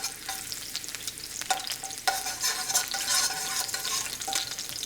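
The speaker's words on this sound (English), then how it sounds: "I'm going to add some sliced garlic" Sliced garlic fries in oil for aglio e olio, a steady bright sizzle with occasional stirring scrapes and bubbling bursts close up, no voices.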